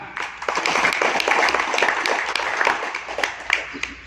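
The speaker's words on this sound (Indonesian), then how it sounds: "Tepuk tangan." Applause at a futsal association congress in Klaten, Indonesia, as the newly chosen chairman and secretary are announced: a steady, loud round of many hands clapping indoors, sustained throughout.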